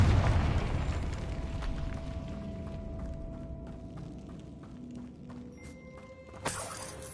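A Confringo fire-spell blast in the Hogwarts Legacy video game: a deep, booming explosion opens the moment, then fades into a long low rumble, with a small sharp pop near the end.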